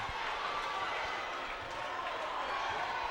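Basketball crowd at a Martinsville vs Patrick County game stirring after a dunk attempt, a dense steady roar of voices and some clapping filling the gym, fairly loud and continuous.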